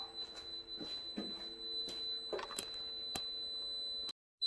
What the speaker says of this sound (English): as you can hear, it's still doing that wild beep